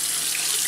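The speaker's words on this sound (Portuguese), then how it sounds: "Deixa eu ligar a bomba d'água para mostrar. Você abre a água." Water runs steadily from the sink faucet of a Winnebago 2108DS RV, making a loud, close, continuous hiss with no voices.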